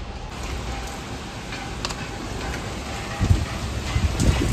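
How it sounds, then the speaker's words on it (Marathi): Steady heavy rain pours down at night with a dense hiss as strong wind picks up, a few louder gusts or splashes near the end, and no talking. "इकडे पाहू शकता कसा पाऊस वाढत आहे."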